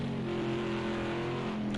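Sauber C9 race car in a racing video game at Watkins Glen, its engine holding a steady sustained drone at high revs for under two seconds, loud and continuous with no voices over it.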